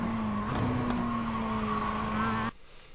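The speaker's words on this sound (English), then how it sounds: "See how early I'm on the throttle?" Mazda MX-5 engine in the iRacing sim held at high revs in first gear on an uphill exit, a steady loud harmonic drone that cuts out abruptly near the end.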